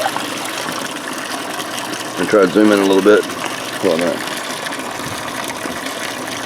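A water pump moves about 360 gallons an hour through a homemade bio swirl filter on a 350-gallon fish tank, giving a steady rushing drone throughout while a person talks briefly over it.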